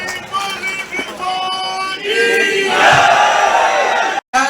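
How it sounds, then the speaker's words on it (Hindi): A large outdoor crowd at a half marathon event in Ballia cheers and shouts, building from scattered whoops into a loud, sustained roar that cuts off abruptly just before the end. "मैं चाहूँगा आप एक बार जोरदार तालियों के साथ बलिया के अंदाज में स्वागत करिए"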